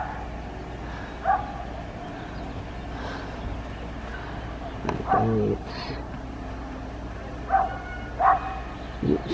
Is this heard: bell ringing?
no